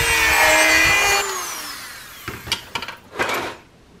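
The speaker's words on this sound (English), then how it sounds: "we're just gonna keep grinding it out until we get it to fit" A power tool grinds down a metal part so that it will fit. Its loud, steady whine runs for just over a second and then winds down. A few short, close clatters and bursts of handling noise follow.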